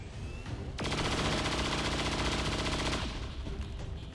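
Soldiers' automatic gunfire in the XCOM 2 video game: one continuous, loud burst of rapid, evenly spaced shots lasting a bit over two seconds, with no speech.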